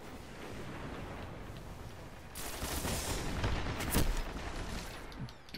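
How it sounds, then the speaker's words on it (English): Golden Gun super firing in the Destiny map Thieves' Den: after a low rumble of ambient gunfire, loud crackling shots burst in around midway and keep going, peaking with one sharp, close blast near the end. "I hear a golden gun, I think."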